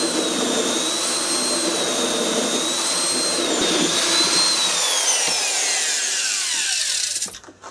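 A power saw cuts a hole through plywood during a bathroom remodel for a Kohler wall-hung toilet: a loud, close, sustained whining buzz with the pitch sagging as it bites, then stopping abruptly near the end.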